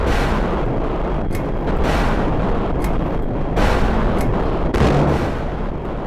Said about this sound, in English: those are cruise missiles. Of course, they don't have targets, so they're just gonna kind of crash and blow themselves up